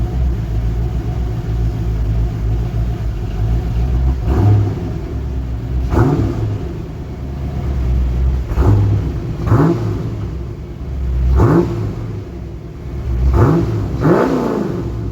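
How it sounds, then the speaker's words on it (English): A C4 Corvette engine idles with a deep, burbling rumble through a chambered exhaust, then revs sharply several times in quick bursts, each rising and falling back to idle. "You want to give it a rev, see what it sounds like?"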